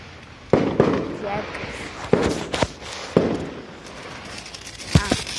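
Loud firecrackers burst one after another at irregular intervals, sharp cracks echoing over a busy outdoor background with voices.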